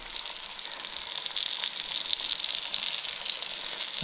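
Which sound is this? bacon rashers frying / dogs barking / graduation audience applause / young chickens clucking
bacon rashers frying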